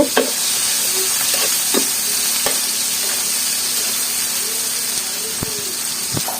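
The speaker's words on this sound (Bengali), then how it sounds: "রসুন পেঁয়াজটা একটু ভেজে নেব" Garlic and onion fry in a pan with a steady broadband sizzle throughout, punctuated by scattered clicks and scrapes of stirring, for a kacchu shak and prawn stir-fry; a voice talks faintly underneath.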